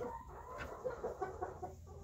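A chicken clucks quietly in a short series of soft, separate calls, faint and close, with no talk.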